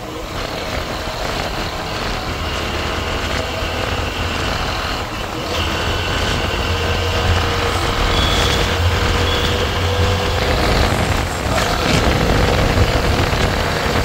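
A car driving fast along a Delhi road toward Noida at night, with a steady, loud road and engine roar and the rush of other traffic around it. No voices are heard.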